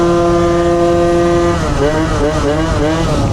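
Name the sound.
motor scooter engine running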